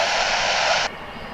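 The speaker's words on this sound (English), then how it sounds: "Here goes another little cargo flight" A Martinair cargo plane flies past at DFW airport, its loud broadband engine roar holding steady before cutting down sharply partway through.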